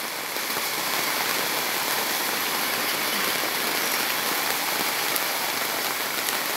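Heavy rain pouring down in El Salvador, a dense, loud, continuous hiss of drops drumming on a surface, unchanging in intensity throughout.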